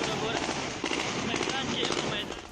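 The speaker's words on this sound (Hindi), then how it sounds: "एयरपोर्ट के अंदर पहुंचकर की ताबड़तोड़ फायरिंग।" Taliban gunfire crackles at Kabul airport at night, a dense rattle of many overlapping shots and bursts under a hissing, noisy background, with voices mixed in.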